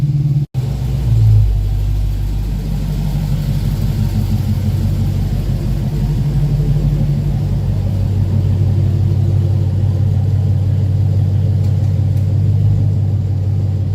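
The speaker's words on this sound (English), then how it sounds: "the exhaust system on this car is amazing." A deep, throaty Dodge Challenger Scat Pack exhaust rumbling steadily at idle, loud and close, with a brief blip near the start.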